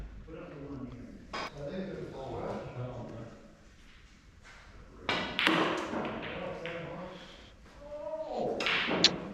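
Snooker balls click together in a few sharp, moderately close knocks, including a cannon off one ball onto another, scattered among stretches of talk in a quiet club room.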